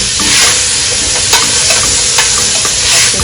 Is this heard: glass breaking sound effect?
no